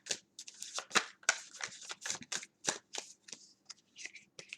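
Tarot cards shuffle and snap close by in quick, uneven bursts of crisp riffles and flicks, with a short pause between handfuls.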